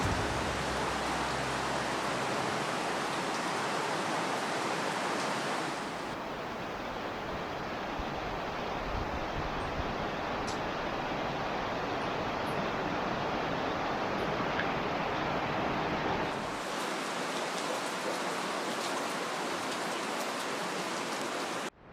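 Water rushes steadily at a backcountry trail crossing of Bear Creek in Cloudland Canyon, a loud, continuous broadband wash with no talk, shifting slightly in tone partway through.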